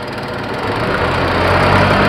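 A sprayer pump runs during a test with a steady, loud mechanical drone that builds slightly over two seconds, close and without speech.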